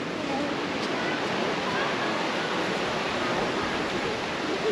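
River water rushing steadily at Isabella Falls on Cape York, a broad continuous wash of noise close by, with faint voices underneath.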